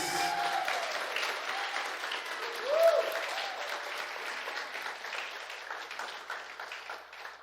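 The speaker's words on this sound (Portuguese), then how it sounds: "dá uma salva de palmas para eles" Applause from a church congregation for fellow worshippers during a sermon, steady and fairly dense at a moderate level across the whole stretch, with a brief whistle-like tone rising near the middle and no speech.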